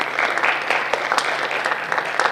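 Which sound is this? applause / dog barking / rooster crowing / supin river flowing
applause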